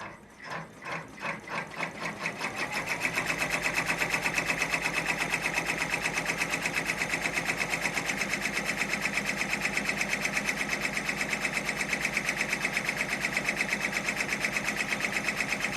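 A sewing machine stitches down the flap of a notebook cover: a few slow starting stitches, then a fast, steady mechanical clatter that runs unbroken and close for the rest of the time.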